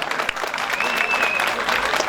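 Crowd applause for soloists at the Çüngüş grape harvest festival, a dense, steady roar of many hands clapping loudly and continuously throughout, with a faint whistle-like tone partway through.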